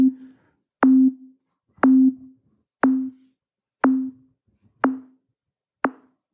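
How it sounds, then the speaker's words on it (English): A synthesized snare click programmed in ZynAddSubFX repeats seven times at an even pace, each hit a sharp transient with a short low tonal thump that quickly decays, alone and without voices. "this is going to be just a click of our snare"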